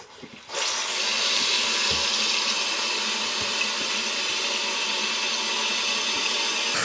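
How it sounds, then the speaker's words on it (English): A toilet tank refills once the water supply is turned back on during a running-toilet repair: a sudden onset, then a steady, close rushing hiss of water that continues with no talking. "now we can turn the water back on."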